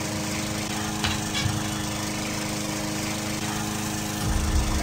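A lawn mower engine drones loudly and steadily in The Visitor Returns video game, a continuous close motor hum with a slight surge near the end and no talking.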